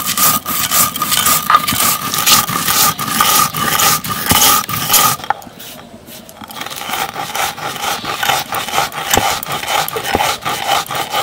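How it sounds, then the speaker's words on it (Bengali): Roasted spices are ground on a stone shil-nora slab, giving a loud, repeated rough scraping and rubbing in steady back-and-forth strokes, with a brief pause midway before it resumes. "এবার আমি গুঁড়ো করে নিচ্ছি"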